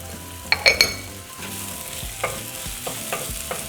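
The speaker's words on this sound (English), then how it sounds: "I'm going to use the leftover oil to fry some onion" Onion frying in leftover taco oil sizzles steadily in the pan, with a couple of sharp metallic clinks early on and soft stirring scrapes after.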